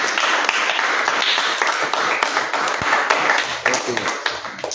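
Church congregation clapping and acclaiming the Lord during a French-language service, dense continuous applause with cheering voices, loud and close throughout.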